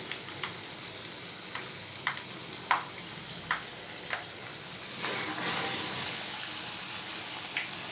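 Mirchi bajji, batter-coated chillies, frying in hot oil make a steady sizzle with sharp pops and crackles at irregular intervals, close and fairly quiet with no talking.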